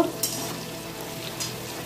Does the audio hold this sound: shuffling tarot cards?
no